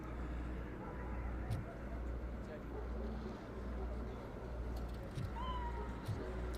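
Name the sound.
cat meowing in RoboCop Rogue City video game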